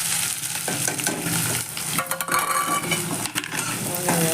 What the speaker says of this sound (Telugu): కొంచెం ఇలా కలుపుతున్నాను.